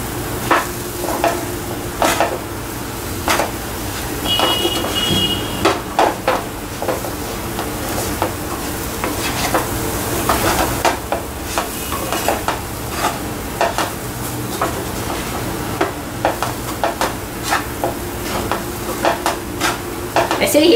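Golden-brown chana dal mixture with sugar being stirred in a pan, a steady scraping and sizzling that runs the whole time with frequent clinks of spoon against metal, close and fairly loud, and no talk.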